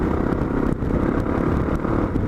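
A Suzuki DR650 motorcycle fitted with a slip-on exhaust runs close by, its loud, steady engine note thumping continuously throughout.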